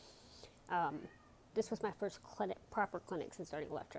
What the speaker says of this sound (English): If you hear meowing, there's a cat.